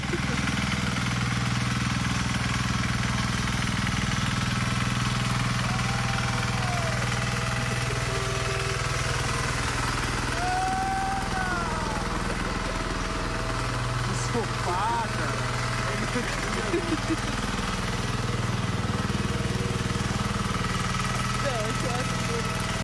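A tractor engine runs steadily throughout, a continuous low rumbling drone with vibration, while people talk intermittently over it on a cold uphill outing with friends.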